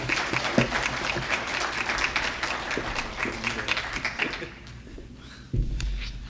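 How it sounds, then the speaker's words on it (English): An audience at a church gathering applauds a speaker, a loud sustained round of clapping that thins toward the end, followed by a sharp thump. "Let's give a great round of applause to my good friend,"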